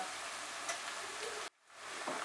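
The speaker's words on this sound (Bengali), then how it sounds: "আদাটা দিয়ে আমি 1 মিনিট এটাকে ফ্রাই করে নেব।" Ginger paste fries with onions in a pan, making a faint, steady sizzle that briefly dips before resuming.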